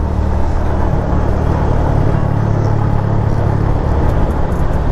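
Traffic rolls along the Murree Expressway during a motorcycle ride, a loud, continuous rumble of passing vehicles and engine drone blended with wind roar, with no talking.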